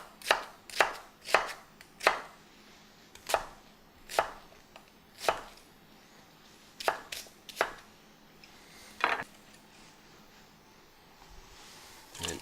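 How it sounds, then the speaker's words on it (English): A knife chopping an onion into half-inch cubes on a cutting board: a dozen or so sharp, close knocks in an uneven rhythm, some in quick pairs, with quiet pauses between. "we're just going to chop the onion"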